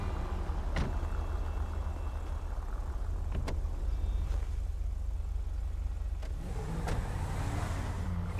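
A yellow 4x4 SUV engine in a video game roleplay drones steadily and loudly at idle, broken by a few sharp clicks and knocks, with a brief rev near the end.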